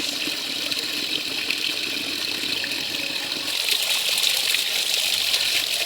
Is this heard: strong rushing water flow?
yes